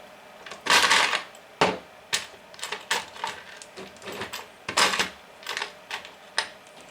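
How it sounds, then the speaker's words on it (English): Two M2 by 16mm screws are pushed through a 3D-printed end stop mount on a RepRap Wilson II printer, producing a run of sharp, close plastic-and-metal clicks and taps in irregular bursts, with short quiet gaps between them. "just put two M2 by 16mm screws through"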